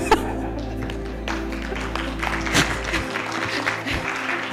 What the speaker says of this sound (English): I think she deserves a clap that is more than that.